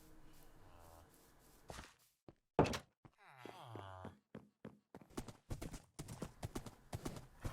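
Horses in Minecraft clip-clop with hollow hoof clunks, a snort and short whinny-like sounds, quiet and close, scattered steps growing into a rapid run of hoofbeats near the end.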